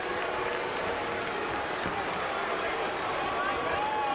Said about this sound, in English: But some of them are booing this.